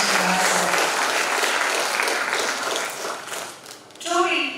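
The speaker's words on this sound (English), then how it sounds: "I request all the participants to give a big round of applause to Jnnce Shivamogga" Participants at an IEEE international engineering conference applaud, a steady full burst of clapping that thins out before a speaker's voice comes in at the end.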